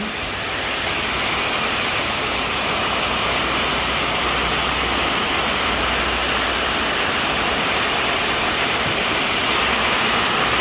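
Steady rain pours without pause in a dense, uniform hiss, loud and close for the whole stretch with no speech over it.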